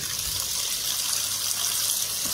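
Tap water gushes steadily into a kitchen sink as bitter gourds are washed, a close, continuous hissing splash with no talking.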